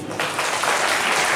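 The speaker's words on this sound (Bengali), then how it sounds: "হাততালি।" An audience at a quiz competition breaks into a short burst of clapping that is dense, close and steady, with no voices over it.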